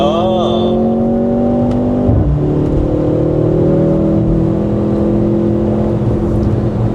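A Mercedes-AMG engine hums at steady, loud revs from inside the cabin, its pitch dipping briefly and then climbing again as the car pulls along.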